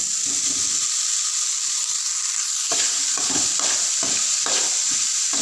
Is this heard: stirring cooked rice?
yes